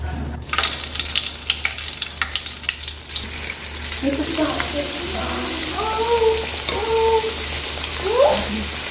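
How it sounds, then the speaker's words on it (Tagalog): Coated chicken liver pieces drop into hot oil and fry with a steady broadband sizzle, brief clatter early on and a few faint voices or tones murmuring beneath the frying. "Pagkatapos po nito, idediretso na po natin ito sa mainit po na mantika."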